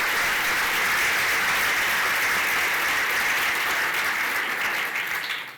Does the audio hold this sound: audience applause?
yes